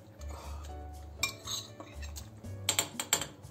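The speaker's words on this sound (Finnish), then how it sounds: "otetaan nyt nämä lohet tänne" Pieces of salmon go into a cooking pot of simmering stock, with clinks and scrapes of utensils against metal, soft thuds and bursts of clattering close by.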